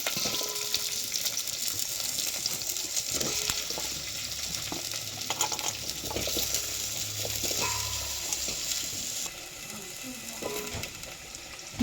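Vegetable pieces for sambar sizzle and fry in a hot pan, a steady crackling hiss with occasional stirring clatter; the sizzle continues throughout and eases slightly near the end.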